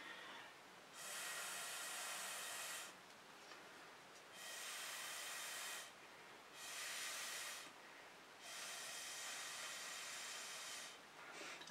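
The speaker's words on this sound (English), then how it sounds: "I kind of want to grab a straw and see what happens if I blow some of these out." Fluid acrylic paint is blown through a straw in five separate long, airy breaths, each a soft steady hiss lasting about one to two seconds with quiet pauses between, close and alone.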